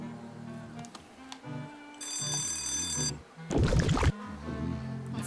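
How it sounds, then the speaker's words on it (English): A game alarm rings in Monkey Island 2: LeChuck's Revenge, a bright bell-like ringing lasting about a second, followed by a short louder burst, over looping background music. "The alarm."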